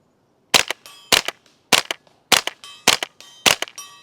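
A Ruger 10/22 rifle fires six sharp, close semi-automatic shots at a steady pace about half a second apart, each crack followed by a short metallic ring, with no talking.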